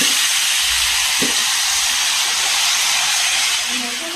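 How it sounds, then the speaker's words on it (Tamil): Marinated chicken added to hot oil in a pan, frying with a loud, steady broadband sizzle that fills the whole clip, close up, with a faint clink of a utensil. "நம்ம இப்போ மேக்னேட் பண்ணி வச்ச சிக்கனை ஆட் பண்ணிக்கிறோம்"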